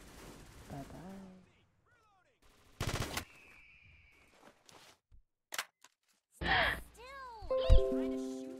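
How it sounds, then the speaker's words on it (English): Video game gunfire in short separate bursts, a few sharp volleys and single shots spread across several seconds between quieter gaps, with a voice speaking at the start and other game sounds mixed in. "Still, I'm trying to shoot you"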